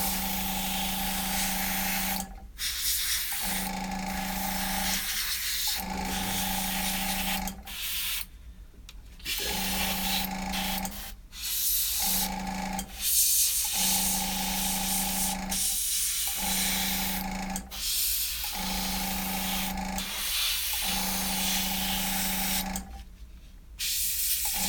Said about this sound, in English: just overspraying the white to base coat